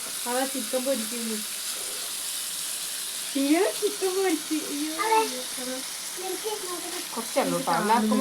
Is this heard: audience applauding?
no